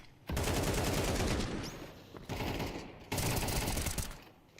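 Bursts of rapid automatic gunfire from a Counter-Strike 2 match at a BLAST.tv Austin CS2 Major, three loud sustained volleys separated by short gaps.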